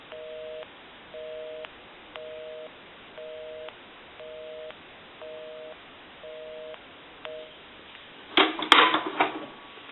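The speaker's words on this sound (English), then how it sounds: "We can call my number, and it'll be busy." A repeating busy signal beeps in short, regular pulses over a thin line from a gray three-slot payphone, followed by a clatter as the handset is handled.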